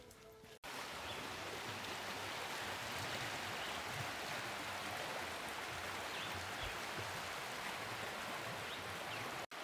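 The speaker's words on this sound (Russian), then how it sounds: "Пошел дождь." Steady rain falls in Baracoa, Cuba, in a constant broadband hiss, close and even, with no voices or pauses until it cuts off at the end.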